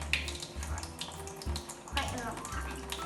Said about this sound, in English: So I'm going to just get a bit of water on and I'm going to scrub